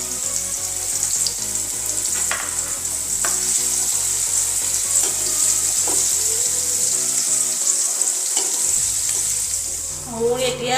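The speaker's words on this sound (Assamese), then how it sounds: "এই গাজৰখিনি এতিয়া মই ফ্ৰাই কৰি লম" Carrots fry in a pan for a vegetable pulao, a steady, close, loud sizzle that runs the whole time over soft background music.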